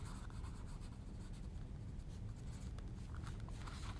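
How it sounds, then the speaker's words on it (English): Pen or marker scratching steadily across paper while a name is signed in the corner of a handmade Valentine's Day card, a soft continuous rubbing close by, with no voices. "And put my name down here in the corner."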